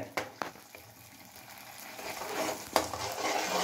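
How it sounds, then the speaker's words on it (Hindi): Chicken pota kaleji frying with chopped tomato in a pan, a close sizzle with a few sharp clanks of a spoon against the pan, growing louder toward the end. "इसको भूनना है ये मैंने चॉप किया है टमाटर ये एक्स्ट्रा भी डलेगा इसमें"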